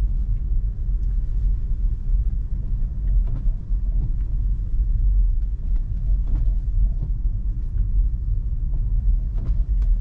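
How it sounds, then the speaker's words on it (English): Tesla car creeping slowly along a road in rain on Full Self-Driving, heard as a steady low rumble of tyres and road noise inside the cabin, with faint ticks and taps scattered over it. "I'm having the car go super slowly because I'm a little afraid myself."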